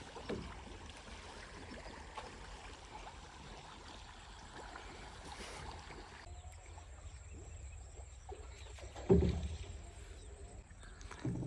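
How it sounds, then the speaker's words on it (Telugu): A rowboat built to carry about twenty people glides across a village fish pond, its soft water movement blending into a steady outdoor hush with insect-like hiss and one brief louder splash or knock near the end. "మొత్తం ఇలాగా బోటు మీద మంచిగా షికారు చేస్తున్నాం"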